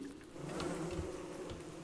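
Bees in the survival game Don't Starve drone with a steady, low, continuous buzz that swells slightly, close and unbroken.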